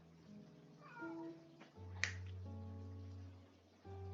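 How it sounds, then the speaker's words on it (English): A pet cat meows and yowls restlessly indoors, several drawn-out cries up close, with a sharp snap-like knock midway and a steady low hum underneath. "you can probably hear my cat going crazy in the background"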